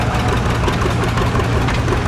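A Rumley Oil Pull 40 tractor engine runs steadily at a threshing show, a loud, dense low rumble with a constant throb and no pauses throughout.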